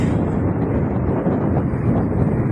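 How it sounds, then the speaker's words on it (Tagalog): Strong wind buffets the microphone with a constant, loud low roar and rumble, unbroken for the whole stretch. "Masyadong mahangin."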